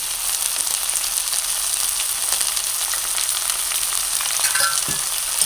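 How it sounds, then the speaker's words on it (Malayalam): Green chilli, ginger and curry leaves frying in hot oil in a pan, a loud, dense, continuous sizzle heard up close with a faint clink or two of a utensil near the end. "അതിലേക്ക് അരിഞ്ഞു വെച്ചിരിക്കുന്ന പച്ചമുളക് ഇഞ്ചി എല്ലാം തട്ടി കൊടുക്കാം എന്നിട്ട് കുറച്ച് കറിവേപ്പില കൂടി ഇട്ട് കൊടുക്കാം"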